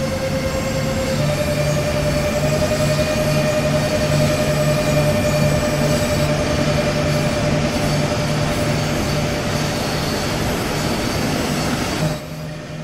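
A BR182 electric locomotive runs in Train Sim World 3, giving a loud, steady, continuous drone with sustained tonal whine and rumbling wheel noise throughout, with no talk.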